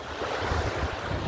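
Seaside surf at a beach cottage washes in a brief, constant roar mixed with gusty wind buffeting the microphone.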